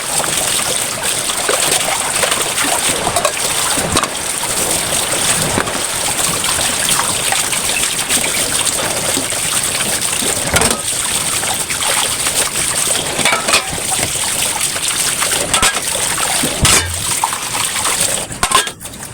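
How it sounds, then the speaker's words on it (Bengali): Water drains and trickles off freshly washed plates and bowls in a home kitchen, a steady close hiss of running and dripping water that goes on without pause, with only a faint voice. "এখন এগুলোর মধ্যে আমি পানি ঝরাতে দিব।"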